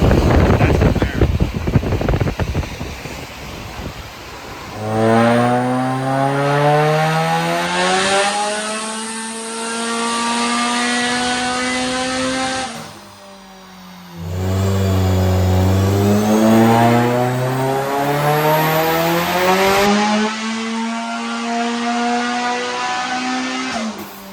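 A fully built Mitsubishi Evo 9 on a dyno revs hard through two long pulls, the engine note climbing steadily in pitch, with a brief drop between runs, loud and close with wind-like roar.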